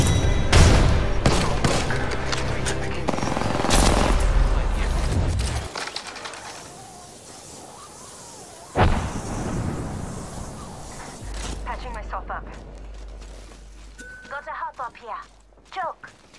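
Gunfire in the video game Apex Legends, loud bursts of rapid shots in the first few seconds followed by quieter game sounds, one sharp blast in the middle, and scattered shots near the end, with voices talking over parts of it.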